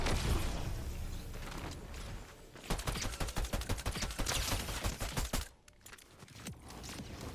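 A Fortnite Zero Build gunfight erupts in rapid bursts of gunfire, dense repeated shots crackling loudly before cutting off abruptly, followed by quieter game ambience.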